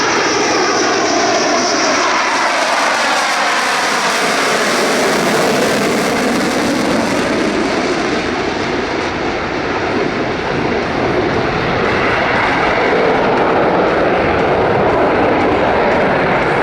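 Rafale Marine jet fighters of Flottille 17F pass at an air show with a loud, continuous roar that sweeps in pitch as they fly by, filling the whole stretch without voices.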